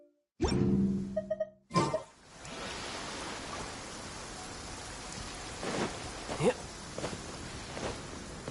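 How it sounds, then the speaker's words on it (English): Steady rain falls as a constant broadband hiss after a couple of short louder sounds at the start, with faint voices passing beneath it. "The sound of the rain scares them away"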